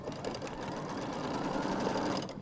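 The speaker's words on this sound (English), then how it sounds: "So it's going to sew that down." An embroidery sewing machine stitches the tack-down line on a quilt block, giving a steady, close, fast mechanical whir that runs without a break and with no talking.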